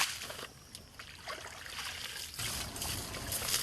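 Water trickles and flows steadily in rural Hunan province, central China, a soft continuous babble that swells slightly louder toward the end, with no voices present.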